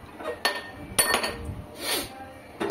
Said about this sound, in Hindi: दोनों इलायचियों को अच्छी तरह से कूट लेंगे।